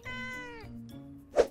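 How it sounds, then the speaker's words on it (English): A cat lets out a long, drawn-out meow up close, followed by a short, sharp second meow. "Sometimes a cat just won't shut up."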